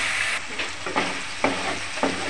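Spice paste with ground coriander and cashew paste sizzles steadily in hot oil while a spoon scrapes and stirs it in four regular strokes, close and clear with no talking.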